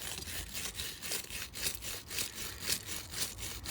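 Rapid back-and-forth scrubbing on a corroded battery post of an Alfa Romeo Stelvio, steady rhythmic rasping strokes, close and moderately loud with no talk.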